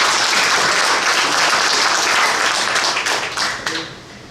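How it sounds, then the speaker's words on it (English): An audience at a legal session for cannabis business operators gives a round of applause, dense steady clapping that holds loud for several seconds, then thins and fades out. "Can we get a round of applause?"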